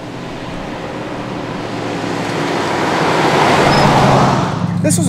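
A 1965 Buick Riviera with a dual-quad 401 engine drives along, its engine and road roar building steadily louder from inside the car before easing off near the end.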